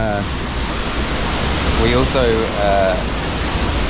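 A loud waterfall in Mauritius roars as a constant, dense rush of water close by, while voices talk faintly above the noise.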